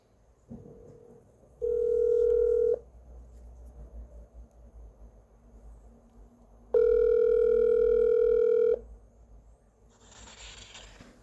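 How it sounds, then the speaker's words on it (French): Telephone line tones sound while a call is placed: two long, steady electronic beeps separated by a quiet pause, followed by a short burst of hissy line noise. "j'espère que le coup de téléphone va passer facilement"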